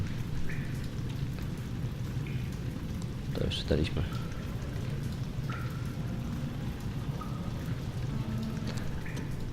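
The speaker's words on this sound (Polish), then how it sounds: "Deszcz za oknem, ponura podobno, zła pogoda." Steady rain hisses outside a window in a video game while a voice speaks briefly over it, with a few faint knocks in between.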